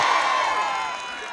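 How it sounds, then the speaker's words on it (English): Festival crowd gathered for a Wally world record attempt lets out a short, loud, ringing cheer together that quickly fades. "the first round of applause goes for Cork's"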